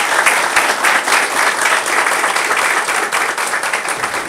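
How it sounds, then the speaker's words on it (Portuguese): Dense, steady applause from an assembled audience honoring a man receiving an honorary Barra Coqueirense citizenship at a civic ceremony. The clapping is loud and continuous, filling the room without pause. "o senhor merece uma salva de palmas de todos os presentes"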